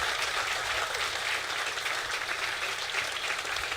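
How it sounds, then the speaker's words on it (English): Loud, dense round of applause from a gala audience at a 78th birthday celebration, many hands clapping steadily and evenly throughout with no break. "ask the audience to give these persons a resounding round of applause"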